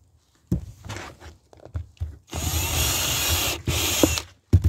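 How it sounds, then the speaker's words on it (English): A power drill bores holes in a plastic shoebox for a one-gallon horizontal nipple waterer, sounding as short bursts and then a longer steady whine, close by and loud, with thunks and handling knocks between them. "when you're drilling out these holes to make it nice and tight"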